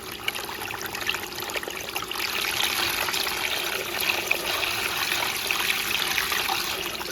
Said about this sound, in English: And in normal water pumping scenario,